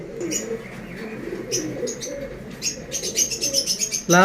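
Pigeons coo in low, soft, repeated murmurs up close, with sharper chirps from other birds over them.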